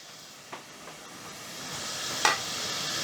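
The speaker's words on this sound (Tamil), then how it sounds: "பாருங்கள், தண்ணி நல்லா கொதிச்சிடுச்சு." A pot of water at a rolling boil for rotini pasta, with a soft steady hiss and bubbling plus a couple of small splashes or clinks as pasta goes in, close and without talk.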